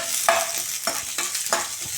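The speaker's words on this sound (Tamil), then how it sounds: "நறுக்கி வச்ச வெங்காயம் பச்சை மிளகா கருவேப்பிலையை போட்டுடலாம் இது கொஞ்சம் நல்லா வதங்கட்டும்" Onions, green chillies and curry leaves sautéing in a pan, a constant sizzle broken by several scraping stirs of a spatula.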